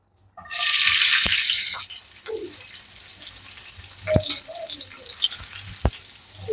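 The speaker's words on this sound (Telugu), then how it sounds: "ఇప్పుడు ఆనియన్స్ వేసుకుందాం కొంచెం." Onions hit hot oil in a pan for a crab curry with a loud burst of sizzling that settles into a quieter frying crackle, broken by a few sharp clinks of utensils.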